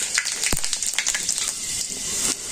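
Bay leaf, panch phoron and a dried chili sizzle in hot oil in a village kitchen, a close, steady crackling fry with one sharp clack near the start.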